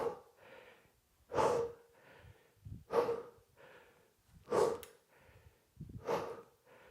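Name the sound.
heavy breathing during dumbbell swings workout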